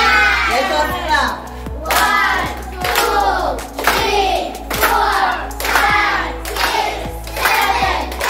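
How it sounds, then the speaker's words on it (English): Guests at a birthday party clap in unison along with a count, giving about seven loud, evenly spaced bursts of clapping and shouting, close and rhythmic, over a constant low hum. "Let's all clap."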